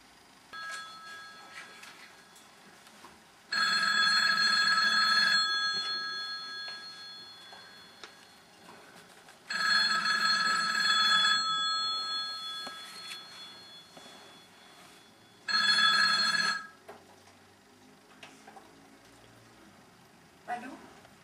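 A telephone rings in three separate bursts on a theatre stage, each a bright electronic trill lasting a couple of seconds, with quiet room sound between the rings.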